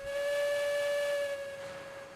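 Steam locomotive whistle from the video game Railroads Online, a loud steady multi-tone blast held for about two seconds and then fading slightly, with no talk over it.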